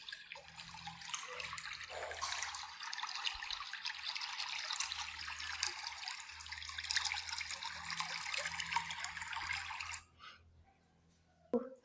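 River water trickles and splashes steadily while a mouse-deer drinks, a bright continuous babble at moderate loudness that stops abruptly near the end, leaving quiet with a faint thump.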